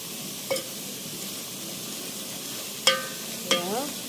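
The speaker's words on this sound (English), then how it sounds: "So in the veggies go. So when you put them like that, you just stir so that the down parts cannot get burned." Vegetables fry quietly in a pan at a Kenyan home dinner, with a soft steady sizzle broken by three sharp spatula scrapes as they are stirred.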